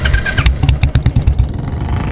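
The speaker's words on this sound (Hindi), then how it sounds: "अपनी बाइक स्टार्ट करके घर की ओर मुड़ जाता है।" A motorbike engine starts at night, giving a loud, close, rhythmic putter of firing pulses that settles into a rough, steady idle.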